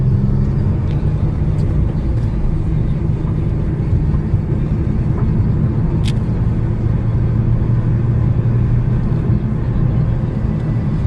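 A modified 2008 Nissan 350Z NISMO drives along with a steady, loud low engine rumble and road drone that holds constant throughout.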